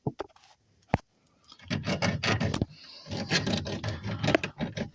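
A saw rasps back and forth through a power steering hose on a Peugeot 306 1.9 diesel, in quick rough strokes broken by a short pause, close and fairly loud, with a few knocks before it.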